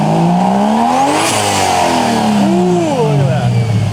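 Loud, close revving from a Toyota 1JZ engine in a Nissan 240sx S14: one sharp climb to a peak, a drop back, then a couple of quicker blips settling toward idle.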